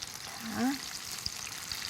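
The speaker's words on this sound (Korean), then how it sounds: "온도를 높인 다음에 다시 넣으면 좀 바삭하게 튀기실 수가 있어요" Chicken deep frying in hot oil during a second, hotter fry for crispness, a soft steady sizzle with a brief swell near the middle, heard without talk.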